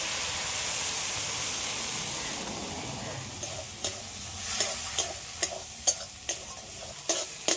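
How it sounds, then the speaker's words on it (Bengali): Shrimp cooked with ground spice paste sautés in a pan, a loud hissing sizzle at first that settles, followed by a rhythmic series of spatula scrapes and stirs toward the end. "চিংড়ি মাছ আর মশলা সব একসাথে একটু ভালো করে কষে নিয়েছি"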